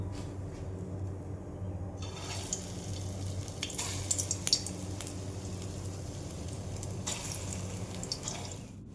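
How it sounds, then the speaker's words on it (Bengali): Red lentil fritters frying in hot oil in a wok, a faint bubbling sizzle that swells louder in bursts, heard close with no talking. "কড়াই গরম হয়ে গেছে, তেল দিয়ে দিয়েছি। এক এক করে বানিয়ে নেব।"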